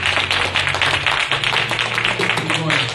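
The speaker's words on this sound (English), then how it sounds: "clap your hands and give God one more praise" A church congregation claps their hands together in praise during a Sunday service, a fast, steady run of claps that continues throughout, with voices and other sound from the room mixed in underneath.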